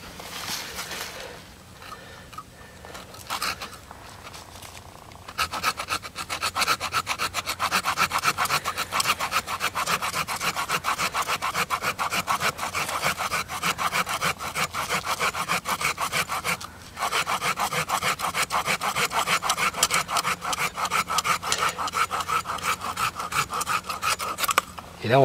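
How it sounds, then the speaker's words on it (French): A small hand saw cuts through a grapevine just below the graft union, starting with a few hesitant strokes and then settling into steady, rapid, close rasping back-and-forth sawing that runs nearly unbroken to the end. "Donc avec une petite scie."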